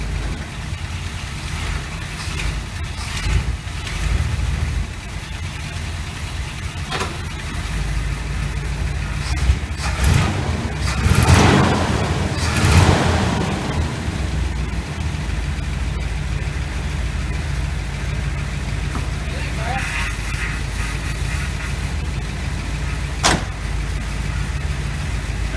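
A 1986 GMC Sierra with a 400 small block V8 idles steadily nearby, its exhaust leaks adding a rough, ticking rasp. A few sharper knocks and clanks sound from work on the engine.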